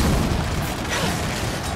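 Dropshot weapon blast in Gears 5, a dull booming burst with mechanical clatter in a loud, dense game mix lasting under two seconds.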